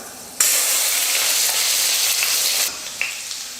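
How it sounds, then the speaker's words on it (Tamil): About ten garlic cloves fry in hot oil with fenugreek seeds for a mango kara kuzhambu, a loud, dense, steady sizzle that starts abruptly, then drops to a quieter hiss with a brief clink. "பூண்டு நல்லா வதங்கிடுச்சு."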